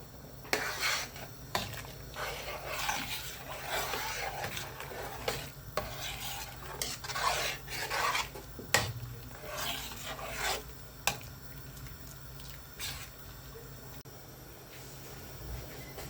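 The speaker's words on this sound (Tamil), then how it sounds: "கிண்டி விட்டுக்கலாம்." A spoon stirs cucumber sambar in a pot, giving repeated scraping and rasping strokes against the metal with soft, wet bubbling underneath, close and fairly steady throughout.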